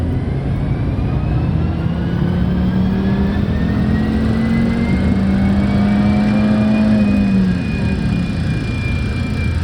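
A 30-year-old Volvo with 241,000 miles accelerating steadily in third gear, heard from inside the cabin as a continuous engine drone whose pitch climbs slowly under road noise, then drops off near the end.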